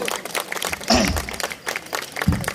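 Applause from the audience at a Bundeli poetry recital, moderately loud clapping in uneven bursts throughout the short stretch, with a voice briefly cutting in.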